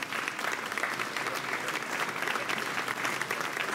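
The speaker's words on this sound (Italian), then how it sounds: "io farei di nuovo un applauso a Barbara Di Lauro." Audience applause for Barbara Di Lauro at a local election list presentation in Casoli, a dense, even patter of many hands clapping that holds steady throughout at moderate distance.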